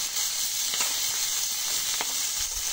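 Fish frying in a pan with chilies added, giving a steady, loud sizzle and hiss with a few brief crackles, close up and without talk.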